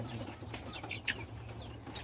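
Joper chickens in a simple backyard coop of about 200 birds give scattered soft clucks over a low, steady background hum, with one brief louder call near the middle.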